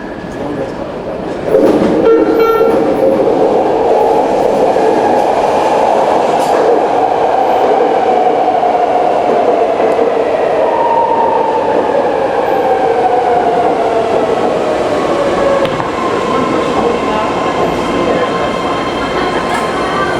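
A Richmond train approaches platform 2, arriving with a loud rising rumble and a drawn-out metallic wheel squeal that holds steady as it rolls in, close and continuous throughout.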